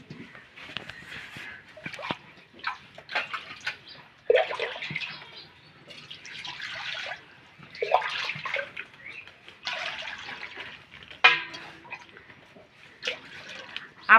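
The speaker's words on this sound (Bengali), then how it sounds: "এখন এখানে পানি দিব।" Water splashes and trickles in uneven bursts as it is poured into a pot around a lidded mold of caramel egg pudding set up for steaming, close and fairly loud with no talking.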